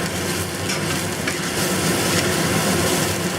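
Rice and bacon being stir-fried and tossed in a hot pan, a dense steady sizzle with scraping stirs and light clatter, close and continuous.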